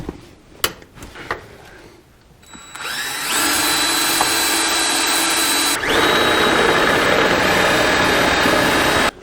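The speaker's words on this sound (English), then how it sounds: "I'm just going to cut it off and start drilling it out." A few sharp clicks and knocks, then a power drill whines steadily and loudly at close range drilling out a bolt on a Caterpillar D4 undercarriage, briefly dipping before spinning up again.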